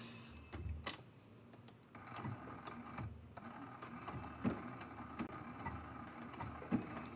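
A sewing machine runs faint and steady, stitching a test blanket stitch on a quilt block in a quiet room, with a soft mechanical rhythm and a few light ticks.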